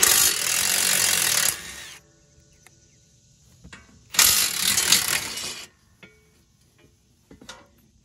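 A ratchet removing skid plate bolts on a Gravely Pro-Turn 200 zero-turn mower, with two bursts of rapid, loud clicking close by, separated by quieter pauses with small metallic taps.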